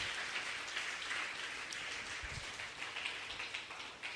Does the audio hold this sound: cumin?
no